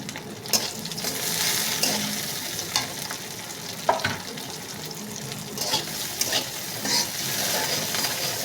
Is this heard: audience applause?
no